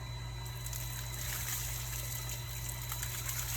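Well water gushes from a hose in a steady, unbroken stream on a farm, with a low constant hum beneath the rushing flow.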